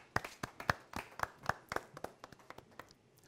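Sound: audience applause

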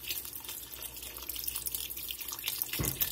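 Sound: pouring beef broth from a box into chili pot

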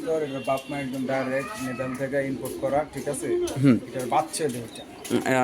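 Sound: racing pigeon cooing

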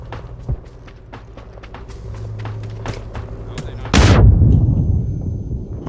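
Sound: gunfire in the video game PUBG

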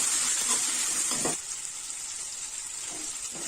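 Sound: tomatoes and tamarind sautéing in a pan for kollu chutney

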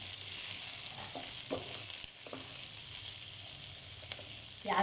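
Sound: garlic, spring onions and vegetables sautéing in a pan

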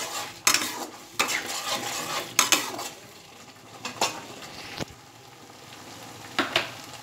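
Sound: spice paste with cumin powder and salt being sautéed

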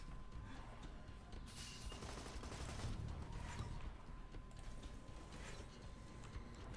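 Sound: gunfire in the video game Borderlands 2

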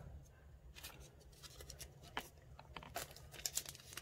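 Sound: tape being torn to hold a mould down

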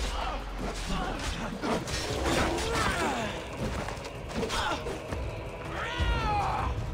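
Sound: big cat snarling in Assassin's Creed Odyssey video game

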